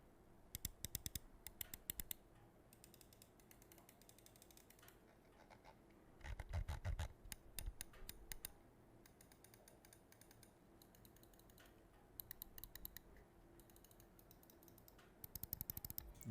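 An EWEADN L1 Pro mouse with Huano mechanical switches is clicked in short rapid bursts, crisp close-up ticks repeated in clusters with quiet pauses between.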